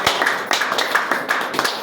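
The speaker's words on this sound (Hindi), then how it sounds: "इनके लिए जबरदस्त ताली होना चाहिए" Applause in honour of a professor at a public gathering: loud, close, steady rhythmic clapping with sharp repeated bursts, heard alone without talk.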